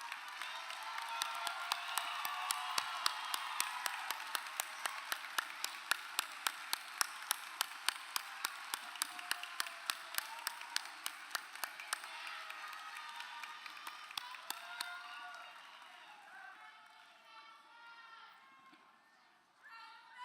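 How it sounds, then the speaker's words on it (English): Faculty and staff at a school commencement receive a round of applause: a crowd claps steadily for about fifteen seconds, with sharp individual claps standing out, before it thins and fades. "Would the Morris Jeff Community School faculty and staff please stand to be recognized with a round of applause, wherever you are."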